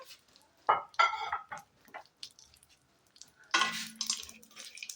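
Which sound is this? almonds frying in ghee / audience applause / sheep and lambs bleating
almonds frying in ghee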